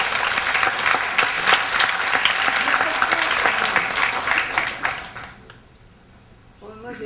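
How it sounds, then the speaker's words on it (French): Audience applause in a lecture hall at a French talk on bipolar disorder, broad sustained clapping for about five seconds, then fading out to near silence. "Je pense qu'on peut l'applaudir"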